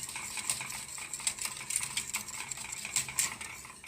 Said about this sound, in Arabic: شويه كده واقلب. برضو انا بقلب باستمرار